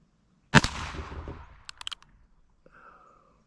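Colt Peacemaker revolver firing a single 22 Magnum round at an outdoor range: one sharp, loud crack with a trailing echo, then a few faint clicks and light handling noises.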